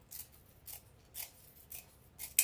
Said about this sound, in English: you're going to take your scissors, and at the 10 inch right here, you're just going to cut your mesh straight up